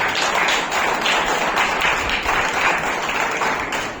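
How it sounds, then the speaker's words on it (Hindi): An audience claps loudly for Vijay Rajput of Akashvani at an award ceremony, a dense, even burst of applause filling the whole stretch. "जोरदार तालियां"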